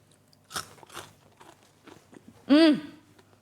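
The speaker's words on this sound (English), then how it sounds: "Can you hear that crunch?" Crunchy Southern fried chicken is chewed close to the mic, with a few sharp crisp bites and crunches separated by quiet pauses, followed by a short voiced sound.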